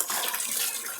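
Water poured over a baby at bath time splashes in a steady, close rush that runs without a break for about a second, with no voices over it.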